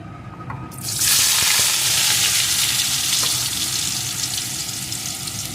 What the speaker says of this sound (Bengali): এই তেলটাও গরম হয়ে গেছে এখন এর ভিতরে আলুর টুকরোগুলোকে দিয়ে দেবো